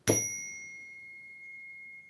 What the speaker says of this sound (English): Ugh, I bought a new Zen bell, and it's not really zenning.